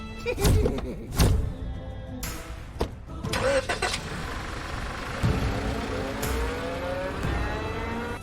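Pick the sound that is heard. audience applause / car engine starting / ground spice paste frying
car engine starting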